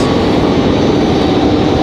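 A Delta jet airliner roars steadily as it departs Raleigh-Durham International Airport, a loud, continuous broadband engine rumble with no talk over it.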